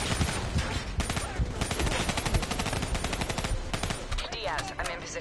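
Rapid machine-gun bursts and dense gunfire fill a video game battle involving a VTOL and an APC, loud and nearly continuous, with sharp repeated reports and voices talking amid the shooting.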